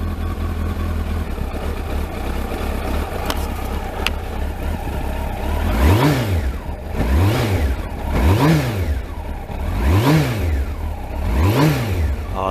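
A Kawasaki ZX12R motorcycle engine, on heavy choke at its first start-up in twelve months, idles roughly and then revs in five rhythmic rising-and-falling blips, loud and close, with no talking.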